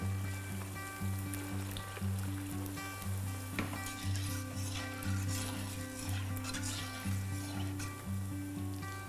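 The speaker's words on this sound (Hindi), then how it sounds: "इसको जो हमने बेल लिया है इसको हम तलते हैं" Semolina golgappe fry in hot oil in a kadhai with a steady, close sizzle and bubbling, while the oil is stirred now and then.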